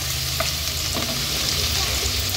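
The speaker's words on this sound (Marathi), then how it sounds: "लसूण थोडा परतून घ्यायचा आहे तेलावर" Crushed garlic sautés in hot oil with a dense, continuous, close sizzle and a few soft stirring taps, without any voices.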